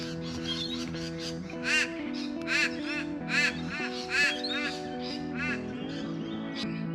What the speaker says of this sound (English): And of course the obligatory crow.